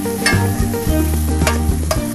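Steady loud sizzling of shrimp paste and shallots stir-frying in a hot pan, with scraping and stirring strokes of a utensil throughout.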